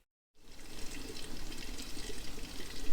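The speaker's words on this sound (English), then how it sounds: "So I'm going to fill this full of water now" Tap water rushing into an empty steel gas bottle: after a brief silence, a steady, close, hissing gush begins and continues without pause, with no voices.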